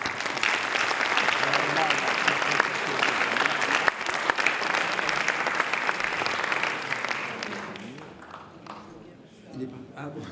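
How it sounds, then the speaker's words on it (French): An audience applauds the host at the close of an event, with dense sustained clapping that tapers off near the end as talk resumes. "Monsieur l'animateur, monsieur Denis Perron, qu'on peut applaudir."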